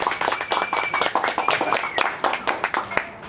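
Audience applause for a guest speaker at a live arts and theatre talk in Perth, rhythmic clapping from a small crowd, fairly close and lively, continuous throughout with a few voices mixed in.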